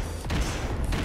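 Rocket launcher explosions in the video game Bionic Commando Rearmed: two heavy, loud booms roughly half a second apart, each with a broad blast that fades quickly, and no voices.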